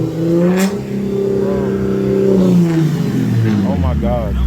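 Lexus IS 250 engine revved to about 4,000 rpm during carbon buildup cleaning, a loud rising and falling rev with strong harmonic whine close by, while people talk over it.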